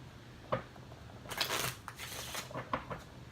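Quiet riffling of playing cards being shuffled, a few short flurries with soft taps between them, close by.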